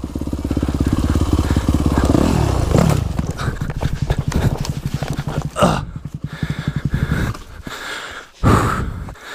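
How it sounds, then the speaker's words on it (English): A dirt bike on a rough, dusty, slippery volunteer-built forest trail loop at Jones Creek, its engine revving and sputtering in rapid uneven pulses before a sudden crash and tumble, ending in scuffing and a gasp. "And my bike is down."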